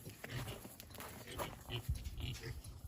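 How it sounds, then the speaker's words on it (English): Pigs on a farm grunt and squeal in short, irregular bursts, fairly close but quiet, mixed with low rumbling noise and some talking in the background. "Think the pigs are mad today? I can hear them."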